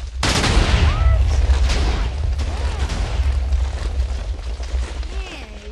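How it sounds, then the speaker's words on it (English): Chains of TNT go off in a modded Minecraft game: a loud, close, rolling barrage of booms and cracking blasts that keeps rumbling and fades slightly toward the end. "Man, it's still exploding."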